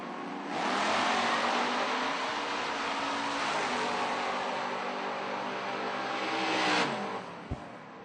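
Drag race between a Chevrolet Cavalier and a red Chevelle at a footbrake event, a loud engine roar rising as the cars launch and sustaining steadily for several seconds before dropping away, with no voices.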